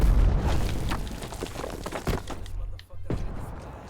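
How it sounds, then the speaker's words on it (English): A grenade goes off in a video game with a loud, heavy boom at the start, then a fading rumble and scattered debris-like crackles, followed by softer game sounds. "Throwing grenade."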